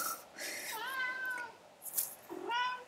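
A house cat meows indoors, a few drawn-out, rising and falling cries in quick succession, close and clear.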